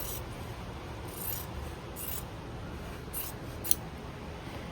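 Sharp scissors cut through sewn quilt fabric pieces, giving four or five distinct crisp snips spaced about a second apart against a quiet room background.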